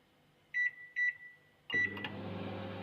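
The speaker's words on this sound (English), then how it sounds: "So I kept it in the microwave, and I'm going to close this one" A microwave oven cooking a cupcake gives two short electronic beeps and a third tone, then starts a steady low running hum that continues to the end.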